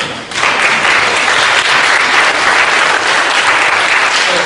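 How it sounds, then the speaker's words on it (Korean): A church congregation applauds loudly and steadily, the dense clapping of many hands kicking in almost at once and holding evenly to the end. "잠깐만 일어난 김에 박수 한번 쳐줍니다"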